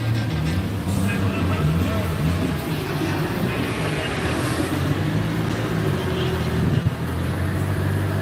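Car engine running on an outdoor dyno at a live event, a loud steady low rumble that fills the whole stretch with a brief bump near the end, heard close with a noisy outdoor background.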